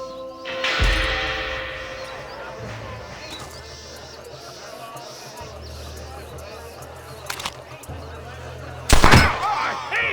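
A single sharp gunshot cracks out near the end of a Red Dead Redemption gunfight, loud and abrupt above a quieter stretch of ambient game sound and voices, with a smaller snap a bit earlier.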